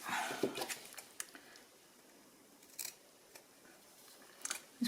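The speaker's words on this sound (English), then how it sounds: "These probably aren't the best scissors in the world for cutting material" Scissors snip through fabric in a quiet room, with a few soft, sharp crunching cuts spaced irregularly and close by.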